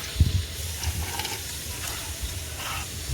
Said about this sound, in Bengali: আলুটা লাল লাল করে ভাজা হয়ে গেছে